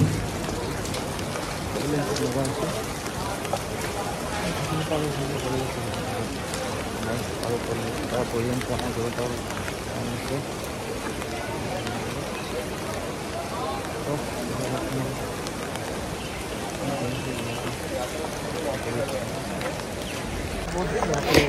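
Rain falls steadily along a mountain road on the route to Kedarnath near Sonprayag, a constant broadband hiss with no breaks, and a voice talks over it.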